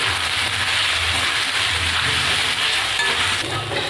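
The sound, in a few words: soybean chunks and potatoes frying in a pan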